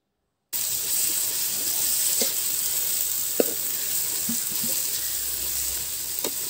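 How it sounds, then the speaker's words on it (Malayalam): Tomatoes fry and sizzle in a pan for Alleppey-style chicken curry, a steady close hiss running throughout with a few faint stirring clicks and no talking. "ഇനി നമുക്ക് കുറച്ച് തക്കാളി ഇട്ട് കൊടുക്കാം."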